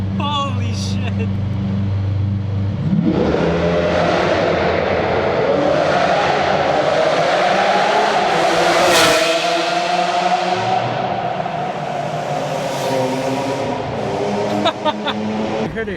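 A straight-piped Lamborghini Aventador roars through a tunnel, one loud sustained blast swelling and echoing like thunder, its pitch climbing then fading, with faint talking before and after.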